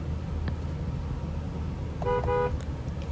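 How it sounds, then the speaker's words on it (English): Horn of a 2020 Toyota Sequoia Platinum SUV, a short twin-tone honk near the end over a low idling rumble, close and fairly loud. "Extremely nice horn."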